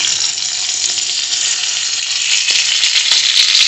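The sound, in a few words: eggplant slices frying in a wok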